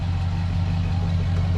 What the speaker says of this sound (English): It's got the normal little V8 rumble to it from the factory